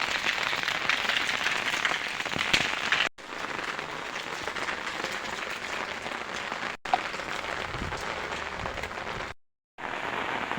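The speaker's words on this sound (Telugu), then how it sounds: "వర్షం సౌండ్ సౌండ్ అసలు ఎంత అద్భుతంగా ఉంది చూడండి" Heavy rain pours down in a dense, steady roar of drops drumming on surfaces, loud and continuous with a few brief dropouts.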